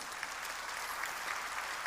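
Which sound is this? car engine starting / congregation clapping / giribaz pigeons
congregation clapping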